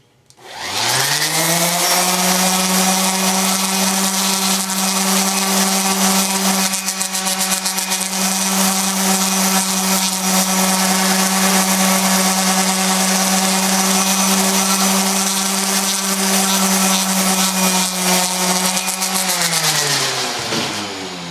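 An orbital sander works over bloodwood to remove scratch lines, spinning up to a loud, steady whining hum that holds for about twenty seconds before winding down, heard alone.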